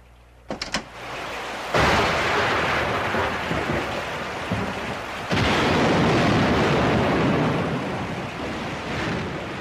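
A thunderstorm with heavy rain, a dense roar of downpour that surges louder partway through, with a sharp crack of thunder near the start and no voices.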